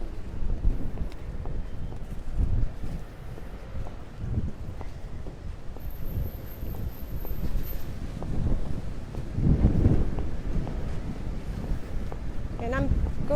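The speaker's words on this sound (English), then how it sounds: "It's a windy day." Gusty wind buffets the microphone in a small square park in Paris, a steady low roar that swells and eases, with trees rustling and a voice speaking at times.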